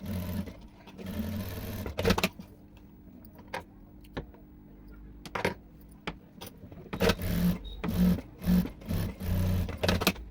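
A sewing machine stitches pieces of a princess-cut blouse in several short bursts of whirring, separated by quiet pauses and faint clicks of handling, loud and close with no talking.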